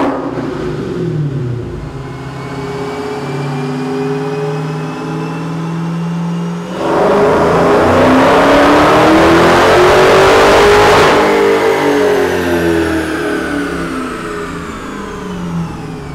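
A 2015 Dodge Challenger SRT Hellcat, rated at 707 horsepower, runs on a chassis dyno: a loud engine note rises steadily, surges into a roaring full-throttle pull, then winds back down.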